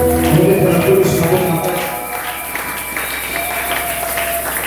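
A church congregation applauds and cheers loudly for the Lord, with dense clapping that starts strong and then fades to a softer, steady patter with scattered voices.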